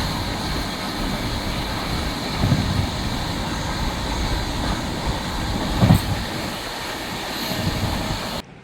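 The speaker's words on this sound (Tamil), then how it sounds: "விருதுநகர்லேருந்து ட்ரெயின்." A train from Virudhunagar heading to Thoothukudi rolls along the rails, heard from inside as a steady rumbling drone with occasional clacks of wheels over joints, continuous throughout until it cuts off at the end.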